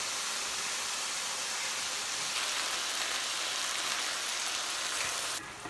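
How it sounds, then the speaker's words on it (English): Paella with a can of diced tomatoes and their juices just added sizzles in the pan, producing a steady, dense hiss that holds evenly throughout with no talking. "Now it's sizzling."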